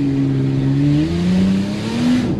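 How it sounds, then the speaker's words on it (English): A loud car exhaust drones close by, its pitch rising and falling as the engine revs through gears. "Hey, the exhaust sounds better now."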